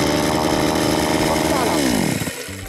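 An URSUS chainsaw runs loud and close with a dense buzzing roar, then its pitch sweeps downward as the engine winds down near the end.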